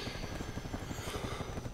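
Helicopter in the zombie survival game No More Room in Hell, a steady rotor chop with a continuous whine, quiet and unbroken over the short span.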